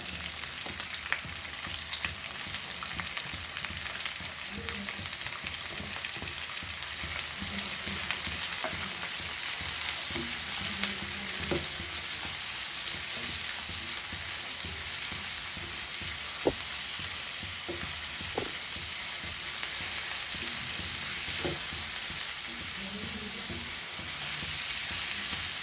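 Onion frying in a pan for a Goan rock crab xacuti curry, a steady broadband sizzle running throughout with occasional faint clinks of stirring, close and continuous, no talking.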